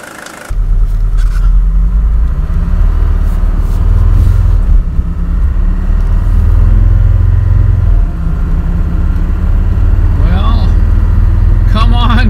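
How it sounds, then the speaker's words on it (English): A diesel car engine runs loud and close from start-up through driving, a steady low rumble that swells with acceleration and eases back, with brief shifts near the end. "Now I'm gonna go ahead and go out and drive the car for about 15 minutes"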